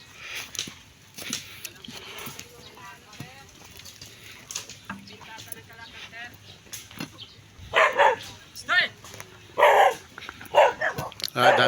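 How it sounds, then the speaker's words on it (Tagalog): Several dogs barking in bursts, loudest toward the end, mixed with people talking nearby at an outdoor clearing site where makeshift shacks are being built. "Dami nilang aso."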